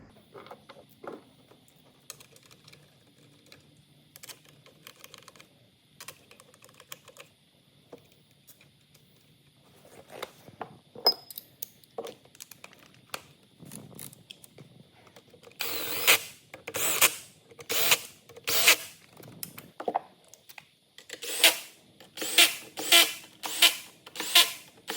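Four bolts going back into the TCM of an 8HP70 transmission: faint scattered metallic clicks and handling, then a run of sharp ratchet or power-tool bursts in quick repeated pulses, close and isolated.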